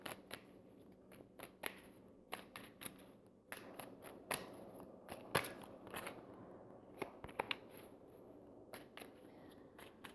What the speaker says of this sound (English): so let's just shuffle this one more time. And I'll cut the deck.